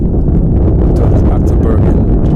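Heavy wind buffeting a microphone on a very windy evening at an outdoor football match, a loud, continuous low roar with gusty flutter and a few brief thumps.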